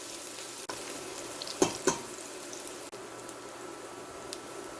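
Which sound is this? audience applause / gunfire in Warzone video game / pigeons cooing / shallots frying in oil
shallots frying in oil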